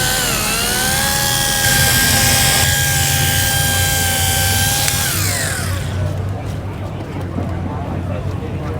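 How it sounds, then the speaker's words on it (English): A polishing machine spins at maximum speed on a cloudy car headlight at an outdoor cars-and-coffee event. A loud, whining motor holds its pitch for about five seconds, then winds down and stops, leaving background noise. "we're going to turn the machine on. Turn it up to the maximum speed."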